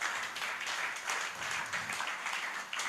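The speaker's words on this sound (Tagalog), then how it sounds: "Palakpak, palakpak para kay Lord." A church congregation claps and applauds together in a dense, continuous wash of hand claps that swells in waves and holds at a moderate level from start to finish.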